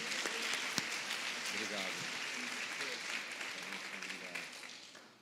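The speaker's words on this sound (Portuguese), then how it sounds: "Louve o Senhor com as tuas palmas" A church congregation claps in praise during a worship service, a dense, continuous wash of hands clapping throughout, with singing or voices faintly underneath as it slowly tapers at the end.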